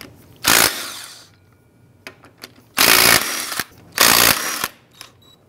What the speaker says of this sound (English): we'll go ahead and remove the lug nuts.